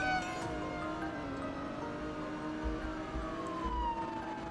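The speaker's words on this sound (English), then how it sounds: "Oh no, here's the ambulance." A wailing ambulance siren in the Emergency Response Liberty County video game rises and falls in pitch, moderately loud and sustained, over a low rumbling engine and background game sound.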